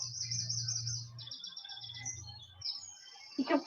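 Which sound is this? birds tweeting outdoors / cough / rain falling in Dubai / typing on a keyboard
birds tweeting outdoors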